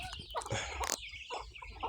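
Chickens clucking close by on a Thai farm, a few short bursts spaced across two seconds with one sharp louder call near the middle, no talking.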